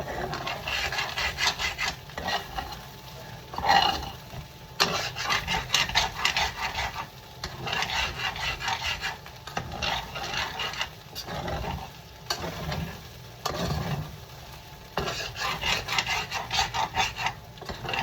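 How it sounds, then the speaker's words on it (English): Fried rice stirred and scraped across the bottom of a pan on a stovetop, a loud, continuous raspy scraping in repeated strokes with brief pauses between bursts, no voices over it. "continue to move the rice and scrape the bottom"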